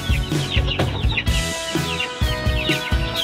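Four-month-old Peruvian hatch stag chickens in a backyard cluck and crow close by in short, busy bursts that overlap one another, loud and continuous, with no people talking.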